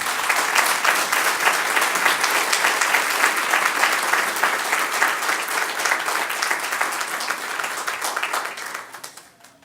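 Audience at an adoption day ceremony breaks into sustained, dense applause with clapping and a few cheers, loud and steady for most of the stretch before tapering off at the end.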